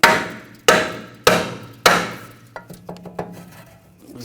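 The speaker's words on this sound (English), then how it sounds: "If it's stuck on there, you want to just tap it with a hammer" A hammer taps on a stuck brake rotor of a 2007-2013 BMW X5: four sharp metallic strikes about half a second apart, then several lighter, quicker taps, close and clear.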